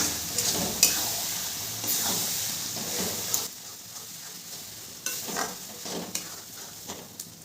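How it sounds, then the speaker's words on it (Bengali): Mustard and spinach greens mixed with gram flour are stirred in a pan, giving an airy hiss of sizzling with irregular scraping and clinking strokes that soften partway through, close and without speech. "এরপরে দিয়ে দেবো বেসন দিয়ে ঘেটে রাখা সর্ষে আর পালং শাকটা। ভালো করে মিশিয়ে নেব।"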